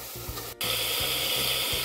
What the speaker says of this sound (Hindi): अब मैं इसमें ऐड कर रही हूँ चॉप किए हुए टमाटर, इसे भी हमने अच्छी तरह से भून लेना है